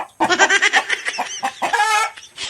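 Chickens clucking close by on a farm, a rapid run of loud overlapping clucks and squawks with a brief pause and a final burst, no talk.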